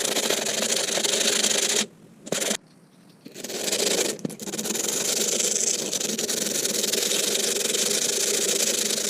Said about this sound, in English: I'm going to hit it with some hand sanding and see how that turns out.